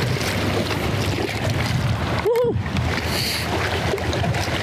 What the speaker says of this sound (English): just trying to combat all this wind noise